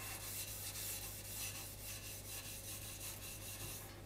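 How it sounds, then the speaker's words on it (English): Steady, gentle scratching of wire wool rubbed over a wooden CZ 453 rifle stock during refinishing, a continuous close hiss with a faint rhythmic sweep and no talking. "we're not going to go too mad with the wire wool. We'll just go once over the whole thing. Don't press too hard, a gentle rub."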